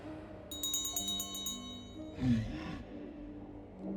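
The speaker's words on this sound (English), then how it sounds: "Ring this bell, and he will come." A bell rings in Baldur's Gate 3 as a quick run of bright, shimmering metallic strikes, followed by a low rumbling swell over a steady ambient game backdrop.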